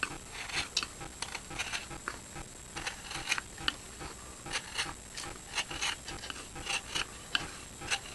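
Rhythmic rasping strokes of sandpaper on wood, hand sanding a wooden flute, steady back-and-forth scrubbing at close range with no talking.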